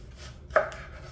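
A kitchen knife makes one crisp chop through an onion on a cutting board, brief and fairly quiet against a low room hum.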